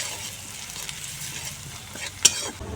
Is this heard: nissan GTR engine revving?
no